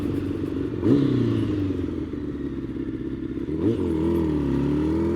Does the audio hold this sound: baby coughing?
no